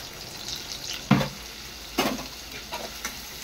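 Green chilies hit hot oil in a frying pan and are stirred, two sharp sizzling bursts over a steady background crackle, with lighter scrapes after.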